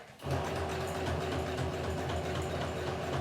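Domestic sewing machine stitching an eye pillow, running forward and in reverse, a fast steady mechanical whirr with rapid ticking that starts abruptly and holds close and even, no voices.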